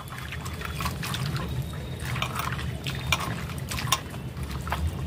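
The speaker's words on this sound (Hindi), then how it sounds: "साफ से इसे मैं दो पानी से इसको अच्छे से धो लूँगी।" Poi seeds are rubbed and washed by hand in water, giving soft continuous sloshing and trickling with repeated small splashes and rubbing bursts, close and moderately quiet, without talk.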